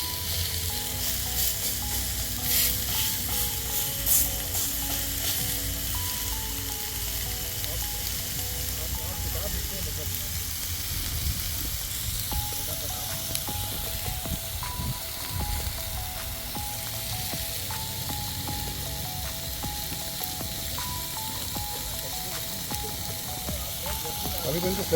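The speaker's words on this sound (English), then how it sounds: "This is ASMR for all those steak lovers." Steak on a grill at an American Memorial Day cookout gives off a steady, close sizzle and crackle that fills the whole stretch, with faint clicks and metallic taps and no talk over it.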